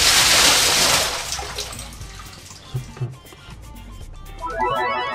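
A toilet flush in a video game about a cramped kitchen, with a loud rushing burst of water at the start that fades into quieter trickling and faint clinks, then a brief rising gurgle near the end.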